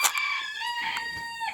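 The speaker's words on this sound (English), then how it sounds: "I'm in the chicken house, obviously." Chickens in a chicken house make close, clear calls, with a drawn-out crowing cry rising and falling over soft clucks and faint scratching, no voices present.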